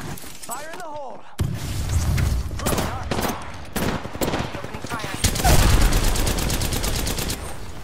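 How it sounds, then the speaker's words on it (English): Rapid bursts of enemy gunfire from an Apex Legends match crackle through most of the clip, with repeated sharp volleys and a dense stretch near the end, mixed with game effects and speech. "The enemies are shooting at me."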